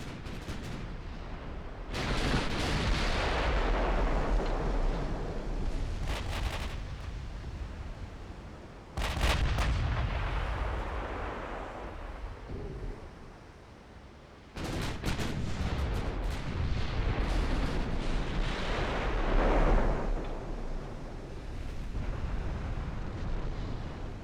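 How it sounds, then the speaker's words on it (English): Heavy warship gunfire in the naval strategy game Ultimate Admiral: Dreadnoughts, Ottoman campaign: deep booming salvos with long rumbling tails, three big bursts spread over the span, loud and sustained, no talk. "And they're firing back."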